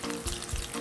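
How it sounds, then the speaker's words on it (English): A corn tortilla for a chorizo taco sizzles steadily in hot corn oil, with a loud, continuous crackling fry close by and no voices. "put my taco in the corn oil"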